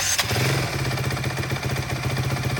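A used 2015 Honda CRF250X electric-start trail bike fires up on the button, catching after a brief crank and settling into a steady, close, loud single-cylinder idle with rapid even pulses.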